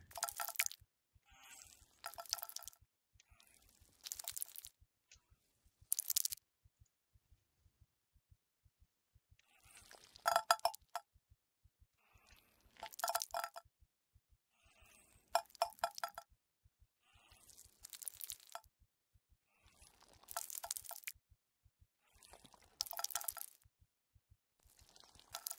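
Blood drips into a bucket in the SAW video game, a series of short wet clinks in irregular bursts separated by silent gaps, over a faint steady low pulse.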